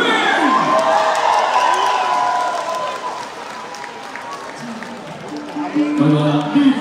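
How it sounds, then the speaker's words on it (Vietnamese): An audience applauds and cheers throughout, welcoming a female singer onto the stage at a live Vietnamese music show at ilani Cowlitz in Washington, while talk and a voice carry on over the crowd noise. "Xin mời cho một tràng pháo tay để chào đón nữ ca sĩ"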